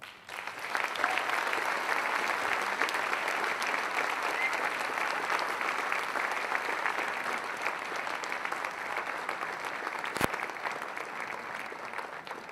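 Steady applause from a large crowd at an annual awards banquet following a keynote speech by US Senator Ted Cruz, sustained and even for the whole stretch without a break.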